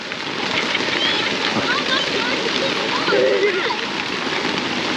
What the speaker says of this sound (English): down comes the hail and the rain